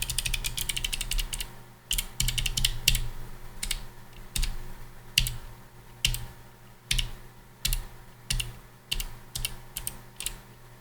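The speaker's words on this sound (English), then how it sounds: "I'm going to move the mic down to my keyboard so you can hear me type" Bursts of keyboard typing, close and clicky, in irregular clusters of rapid keystrokes with short pauses between them.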